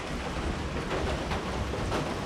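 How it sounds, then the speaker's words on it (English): Rain pouring outdoors during a car repair session, a dense, steady hiss of drops close by with no talk over it. "It's fucking raining."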